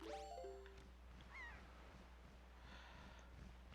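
Seagull cries from The Legend of Zelda: The Wind Waker, a couple of short rising squawks over a steady low game ambience and sea-like hiss, moderately loud and unaccompanied by talk.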